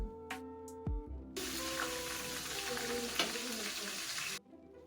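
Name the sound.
tempering cumin, mustard, coriander, green chili sizzling in oil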